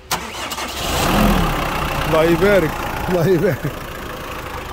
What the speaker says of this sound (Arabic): نسمع هذا الموتور